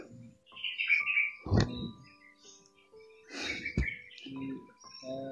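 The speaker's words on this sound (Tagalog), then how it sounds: "Dito yung mga ibon." Wild birds in fruit-bearing trees give close, clear chirps and short whistled calls in scattered bursts, with brief pauses between phrases.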